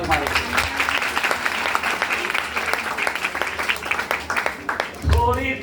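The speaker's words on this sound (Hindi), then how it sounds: "जोरदार ताली मारेंगे।" Steady applause from a congregation at a prayer meeting in Mahim, Mumbai, with a dense wash of clapping that runs throughout, and a voice begins speaking near the end.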